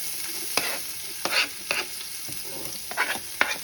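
Mustard seeds splutter in hot oil as chopped garlic, ginger and shallot sauté for a Kerala salmon curry, a close, steady sizzle punctuated by sharp popping crackles, no talking.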